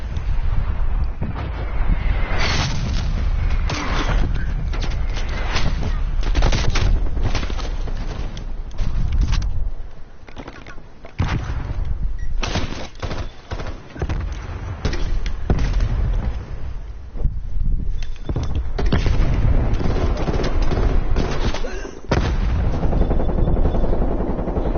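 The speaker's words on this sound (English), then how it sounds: "Artillery targeting detected. Net call, incoming artillery." An incoming artillery strike lands in a PS4 shooter game, heard as a dense run of loud booms and rapid gunfire-like bursts that keep going without a break, with no voices over them.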